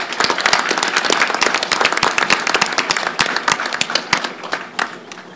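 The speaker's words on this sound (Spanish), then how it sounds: "Un aplauso para él, por supuesto." An audience at a reading-promotion event in Mexico applauds the UNESCO representative with sustained, dense clapping from a crowd, loud and steady throughout before easing slightly at the end.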